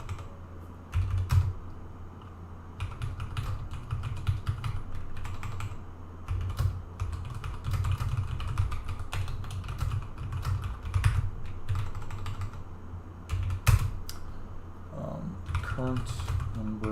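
Steady rapid clatter of a computer keyboard as someone types comments into C++ code, close and continuous with brief pauses, while someone talks over it.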